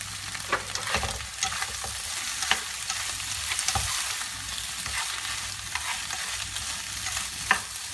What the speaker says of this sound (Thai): จากนั้นก็ใส่เส้นมักกะโรนีนะคะ ลงไปผัดนะคะ